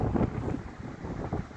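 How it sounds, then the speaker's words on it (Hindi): Strong gusty wind blowing beside a mountain river flowing over large rocks, a loud continuous buffeting rumble hitting the microphone with swelling gusts. "बहुत तेज हवा चल रही है"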